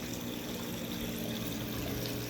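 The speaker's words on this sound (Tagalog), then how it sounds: "So, pinupuno ko lang yung tubig natin." Water pours steadily into a fish pond during pond maintenance, a constant, fairly close rushing splash that stays even throughout.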